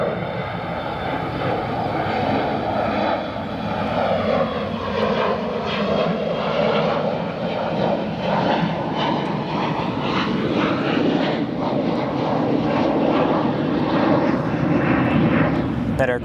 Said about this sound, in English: we have United Airlines Flight 2296, an Airbus A319 headed to Cedar Rapids